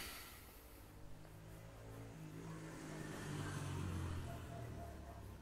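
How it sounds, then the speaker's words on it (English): A motorbike goes by at a distance, its faint engine drone rising and swelling midway before easing off under a quiet background hum. "That was a motorbike."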